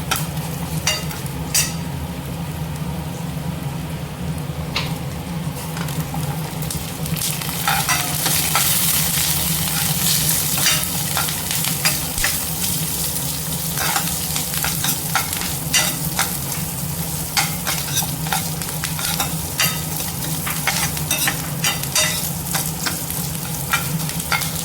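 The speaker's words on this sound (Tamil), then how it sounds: "இஞ்சி, பூண்டு, வெங்காயம், கருவேப்பிலை இது கூடவே சேர்த்து வதக்கிக்கலாம்" Ginger, garlic, onion and curry leaves sautéing in a pan for a chickpea curry, with a continuous close sizzle and repeated scraping and stirring strokes of a spatula over about twenty-five seconds, no talking.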